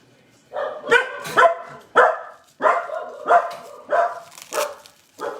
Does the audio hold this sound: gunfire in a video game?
no